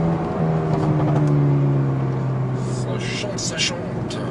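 A Mercedes A 35 AMG engine hums steadily under load while the car leans through a tight bend, a near, moderate drone with a slowly shifting pitch beneath someone talking.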